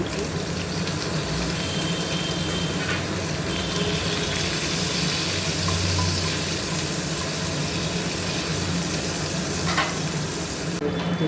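Ginger and garlic fry for a chicken dish in a loud, dense, unbroken sizzle that keeps going close up for the whole stretch.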